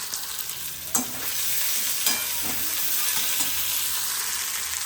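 Tempering sizzling steadily in a hot pan while burji is cooked, a continuous bright frying hiss with a few stirring knocks near the start and no voices.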